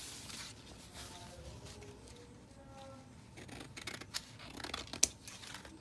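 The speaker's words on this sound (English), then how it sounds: "I'm trying to cut out the center piece now." Scissors cutting out a fabric center piece for a dress neckline, a run of soft snipping and crisp scratchy cuts, close and fairly quiet, growing sharper toward the end with no talking.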